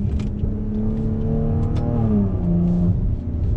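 A Maserati Levante 350 SUV engine revs up smoothly in second gear in manual mode, its throaty note climbing and then easing off, heard from inside the car at Mount Panorama.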